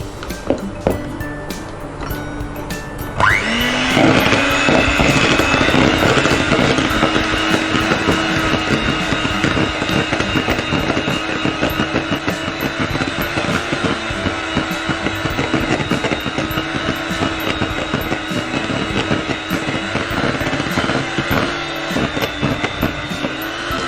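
A steady electric mixer drone whirs continuously while re-creaming doughnut batter, starting after a few seconds of quieter noise and holding a loud, even motor tone to the end.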